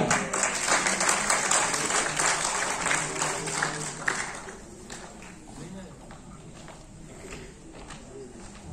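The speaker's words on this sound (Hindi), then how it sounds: "जोरदार तालियां।" Applause from an audience at a village gathering in Delhi, a dense, steady patter of many hands that is loudest at the start and then thins and fades over the following seconds.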